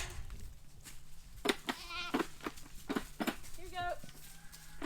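Kiko goats in a wooded pasture let out a few wavering bleats, some near and some farther off, mixed in with people talking and rustling outdoor background noise.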